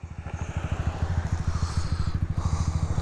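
A Honda Grom motorcycle idles at a traffic light with a steady, close, rapid lumpy pulse, a small single-cylinder putter that keeps going the whole time with no voices.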